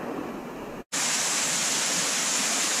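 Rushing water from a waterfall on a hiking trail, a loud, broad steady roar that cuts out for an instant and then returns brighter and fuller, continuing unbroken to the end.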